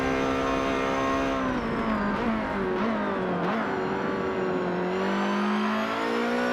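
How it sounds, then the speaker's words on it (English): A Ferrari race car in a racing video game screams through a qualifying lap at Silverstone, its loud engine note holding high, dipping and climbing again through gear changes, with no voices over it. "We're riding along as I take the reigning Ferrari on my Q1 lap for the race."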